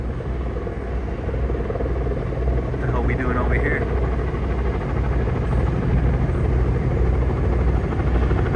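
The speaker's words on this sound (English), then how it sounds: "there's 2 helicopters over here" Two helicopters fly overhead above Boston streets, producing a constant, loud, low rotor rumble that fills the whole stretch while someone speaks over it.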